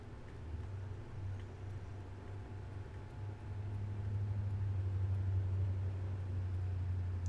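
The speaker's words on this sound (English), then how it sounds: "That is an unusually loud truck." Low, rumbling engine drone of a loud truck in the video game Left 4 Dead 2, faint at first and swelling louder midway, steady and heavy with no voices over it.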